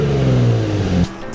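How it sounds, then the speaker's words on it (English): An Infiniti G35 with an exhaust leak revs briefly, a raspy mid-pitched engine note that holds for a second and then drops off abruptly, close by with no talking. "You hear that exhaust leak?"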